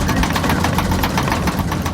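Jet engines of a Birgenair airliner throttled to full power produce a loud, dense, steady roar with rough pulsing vibration and no voices over it.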